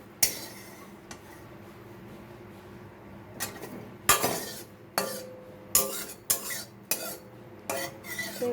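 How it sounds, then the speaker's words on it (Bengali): Metal ladle scraping and knocking against an iron wok while fried neem leaves are lifted out of the oil, a series of sharp clinks and scrapes coming faster and louder toward the end, close and without talk. "এখানে আমি কড়াইতে নিম পাতা দিয়ে দিয়েছি, তেল দিয়ে নিম পাতাটা ভাজা হয়ে গেছে। তো এখন আমি নিম পাতাটা নামিয়ে নিচ্ছি।"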